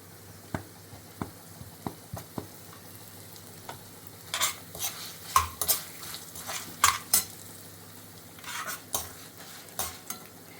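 Fenugreek and other spices dry-roasting in a pan for Tamil Brahmin kalyana sambar, a soft low sizzle under repeated sharp metal ladle scrapes and clinks against the pan, irregular and close, with no talking.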